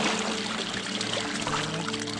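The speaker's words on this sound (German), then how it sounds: "Wasser auf die Plane." Water is poured onto a tarp aboard a catfish fishing boat, a soft, quiet splashing trickle that runs steadily for a couple of seconds.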